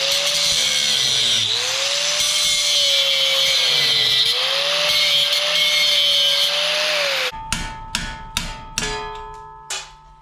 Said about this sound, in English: when you're using an angle grinder, always wear safety glasses